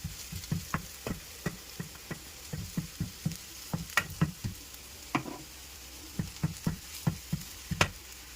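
Masala with turmeric powder being stirred into sardine curry for a Kerala-style dish, a spoon scraping and tapping the pan in a steady rhythm of close, distinct strokes over a low sizzle, with no talking.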